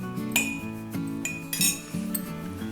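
A metal spoon clinks repeatedly against a bowl or glass while ground herbal powder is added to a remedy mixed with almonds. The ringing taps come close and in quick succession, with no voices.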